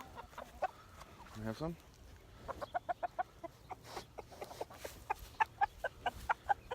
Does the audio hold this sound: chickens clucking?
yes